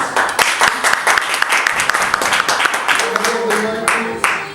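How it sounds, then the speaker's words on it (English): A room of Toastmasters club members applauding new members at an installation ceremony, a short burst of clapping with distinct individual claps standing out, with a voice briefly audible near the end. "I would like to give a loud applause again for the new members"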